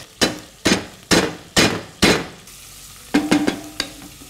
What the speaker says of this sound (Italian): Utilizzate un batticarde per schiacciare un pochino le teste.